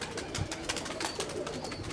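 A pigeon coos softly a few times, close by but low in level, over a steady background hiss with no talk.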